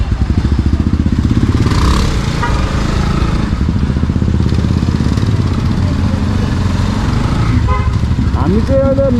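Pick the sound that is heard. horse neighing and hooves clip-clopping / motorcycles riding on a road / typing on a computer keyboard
motorcycles riding on a road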